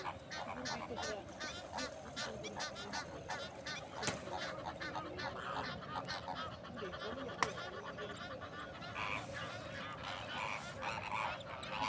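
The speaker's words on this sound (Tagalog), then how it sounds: "Kita niyo yung mga gansa, guys." A flock of geese at Al Qudra Lake honking almost continuously, dense overlapping calls near and far, with faint voices now and then.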